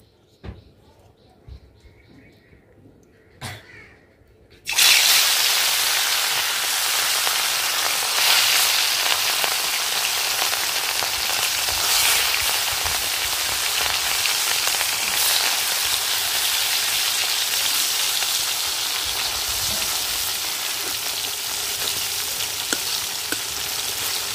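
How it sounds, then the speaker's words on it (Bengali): Katla fish coated in turmeric and salt hits hot oil in a kadai. After a quiet few seconds with small knocks, a loud, dense, continuous sizzle and spatter takes over and holds steady to the end. "তেল গরম হয়ে গেছে, লবণ হলুদ মাখানো মাছ দিয়ে দেব।"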